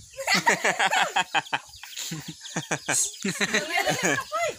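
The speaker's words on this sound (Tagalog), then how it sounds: "Dami nilang manok." Chickens clucking close by in a run of short, choppy calls, mixed with a person talking over them.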